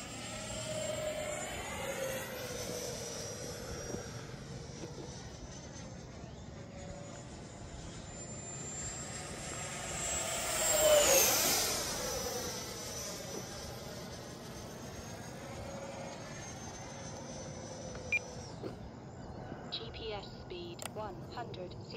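A Freewing Zeus 90mm RC jet on 6s power streaks past with a rising whine that peaks loud overhead mid-pass, then drops in pitch and fades away as it flies off.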